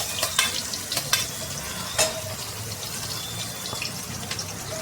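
Onion frying with whole garam masala for veg pulao makes a close, steady sizzle, with a few sharp stirring clicks and scrapes near the start and no talking.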